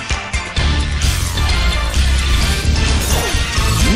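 A loud smashing impact from a powerful attack in the Pokémon Battle Revolution arena, a heavy crash followed by dense sustained battle effects.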